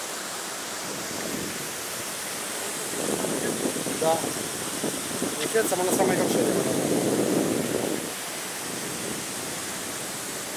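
Laxapana Falls in Sri Lanka pours in a constant loud rushing roar that fills the background while a couple exchange a few words in the middle.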